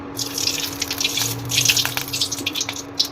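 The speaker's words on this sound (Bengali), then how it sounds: "তেল দিয়ে দিচ্ছি।" Cooking oil poured into a wok, a short close trickle and splash with light dripping that rises and falls over about three seconds, no voices.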